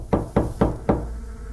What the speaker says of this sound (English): He kept hearing light tapping noises, as if someone was tapping on the car door from outside.